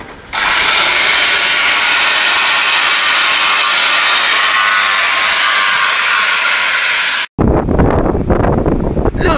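A loud, harsh, high-pitched grinding roar of a metal grinder cutting runs continuously, then cuts off abruptly into rougher low rumbling noise.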